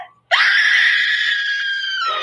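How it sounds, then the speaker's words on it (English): A woman lets out one long, loud, sustained scream in an old radio drama, starting abruptly after a brief hush and holding steady until it trails off near the end. "She's so good at screaming."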